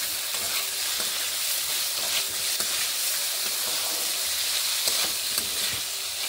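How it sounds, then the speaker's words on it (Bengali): Cauliflower florets fry without water in an uncovered pan, a dense continuous sizzle with faint scraping from stirring running throughout. "এবার নেড়ে নিচ্ছি এইভাবে"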